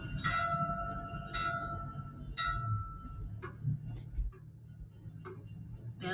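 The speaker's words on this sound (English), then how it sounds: "Bells ring at a Taoist temple across from a mosque" Bells ring at a Taoist temple in Kolkata, India, sounding as several resonant metallic strikes spaced roughly a second apart, each ringing out over a low background hum with faint ticking.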